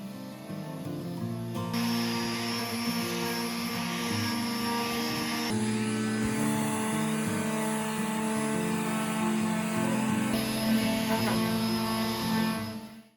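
A power sander working over old wooden bookshelves gives a continuous close mechanical whir that shifts pitch a few times as pressure or surface changes, then cuts off at the end.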